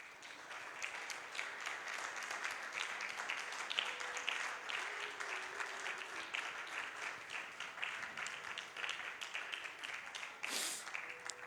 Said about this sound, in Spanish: Te damos un aplauso, Señor.